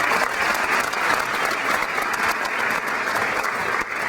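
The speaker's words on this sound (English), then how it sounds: "Let's give him a round of applause" Sustained audience applause at a pasta dinner for the Around the Bay 30K road race in Hamilton, Ontario, honouring co-speaker John Stanton; dense, steady clapping from a large crowd fills the room throughout.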